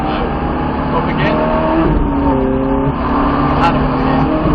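Ferrari 430 accelerating hard on a race track, a loud close engine note climbing steadily in pitch under the power with a slight dip and rise again, a voice talking over it.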